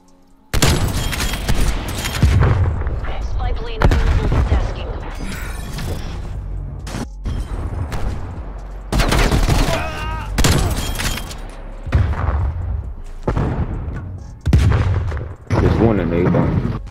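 A nuke killstreak goes off in a Call of Duty Search and Destroy match, with loud, booming blasts in several heavy bursts and rumbling mechanical noise in between; a voice may talk over parts of it.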